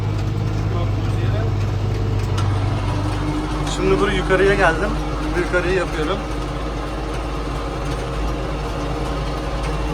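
A tractor engine runs steadily with a low, constant drone throughout, working in a dry field being prepared for wheat sowing, while someone talks nearby over it partway through.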